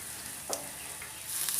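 Onions frying in a pan with salt and turmeric, stirred, giving a soft steady sizzle with a brief scraping stir in the middle and a louder hiss rising at the end.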